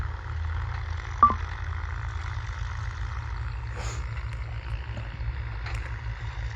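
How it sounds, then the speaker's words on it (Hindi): JCB excavators digging pits outdoors give a steady, low diesel drone from some distance, with a brief squeal and faint clanks rising over it and no voices. "जो जेसीबी मशीनें हैं वो लगातार गड्ढे इसमें खोद रही है, लगातार मशीन चल रही है।"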